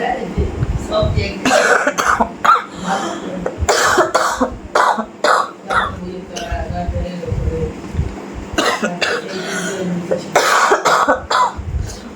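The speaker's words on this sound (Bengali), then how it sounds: "এত কাশি হয়েছে আমার, কাশিটা কমছেই না" A person indoors coughs repeatedly in sharp, harsh bursts, some in quick clusters, mixed with throat clearing and stretches of talking nearby.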